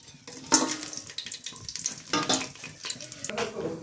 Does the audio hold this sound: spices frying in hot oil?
yes